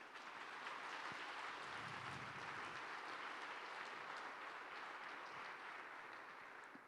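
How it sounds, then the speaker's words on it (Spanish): A church congregation at a Spanish-language sermon breaks into loud, sustained applause that fills the room evenly for several seconds, a dense wash of clapping from many hands, easing slightly at the end with no speech over it. "Dele un fuerte aplauso al Señor."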